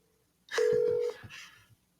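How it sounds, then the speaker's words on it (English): Touch-tone telephone keys dialed for a call to a gym's AI receptionist, a short burst of tones with a steady tone held about half a second, then a few faint clicks, close and clear with no talk. "So I will dial the number."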